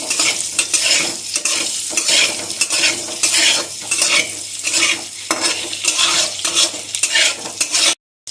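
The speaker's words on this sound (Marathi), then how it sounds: "इथे बघा 1-2 मिनिटं अंडी छान फ्राय करून घेतलेले आहेत।" Eggs frying in a pan for an egg curry, with steady sizzling and repeated stirring scrapes of a utensil against the pan, loud and close, with no talking, ending abruptly in a brief silence.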